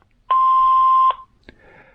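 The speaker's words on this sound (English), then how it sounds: "Record after the tone." A single long steady electronic record-tone beep from an AT&T five-handset telephone answering system, lasting nearly a second, followed by a short click.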